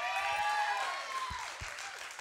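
Audience applause for performer Jonah Hammond at the Connect 2022 live broadcast show: a dense, steady wash of clapping from a crowd, filling the whole moment and easing off slightly toward the end.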